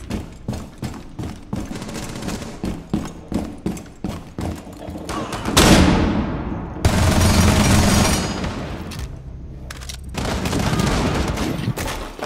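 Gunfire in Rainbow Six Siege on the Consulate map: a fast, regular string of close, sharp shots, then longer roaring bursts of heavy fire broken by brief pauses.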